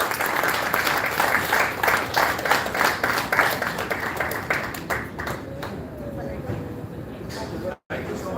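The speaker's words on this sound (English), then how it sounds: "Let us give a big round of applause." An audience at a Kashmiri Hindu community event claps for a book presentation on stage. The applause is loud and dense with a crowd murmur under it, then it thins and fades in the last few seconds.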